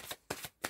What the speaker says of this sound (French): Mon esprit me demande de tirer une seule carte.